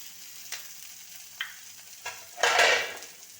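Chopped tomatoes and salt are stirred into hot oil for a masala dish: a few soft spoon scrapes, then a louder burst of crackling sizzle before it settles, close by with no talk.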